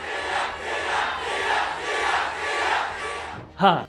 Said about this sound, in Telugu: ఇలాగా సీఎం సీఎం సీఎం అని నినాదాలు చేస్తా ఉన్నారు